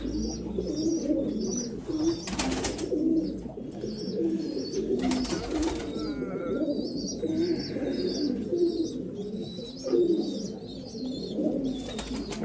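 Many pigeons in a breeder loft coo continuously in a dense, overlapping chorus, with occasional chirps and wing sounds and no talk over it.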